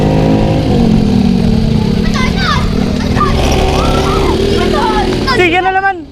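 A friend's loud motorcycle engine runs steadily close by throughout, with voices chattering over it and a brief rise near the end.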